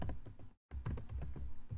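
Computer keyboard typing heard up close and alone, a quick run of uneven key clicks broken by one brief silent gap partway through.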